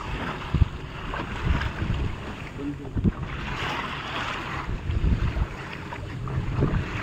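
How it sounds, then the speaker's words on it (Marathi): Large sea waves slap and rush around a boat on a Malvan coastal trip, with wind buffeting the microphone and irregular splashes rising and falling under a continuous roar. "लाटा मोठ्या आलेल्या आहे"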